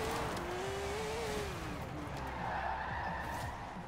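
A car launching down a drag strip in Forza Horizon 4 roars as its engine pitch climbs and then drops at a gear change, a loud steady rumble throughout with no voices.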